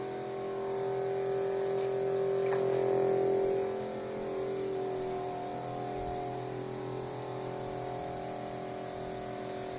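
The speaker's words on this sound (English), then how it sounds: "Now the pump sprayer sprays out harder" A Hudson "Never Pump" 4-gallon sprayer sprays onto carpet for cleaning, a steady close hiss of pressurized spray running continuously with a slight swell partway through.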